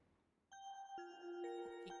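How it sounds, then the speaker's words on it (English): A cafe door chime rings softly as someone steps inside, giving a run of four or five bright, bell-like tones that overlap and linger in a quiet room. "The door chimes softly as you step in."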